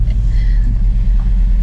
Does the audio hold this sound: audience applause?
no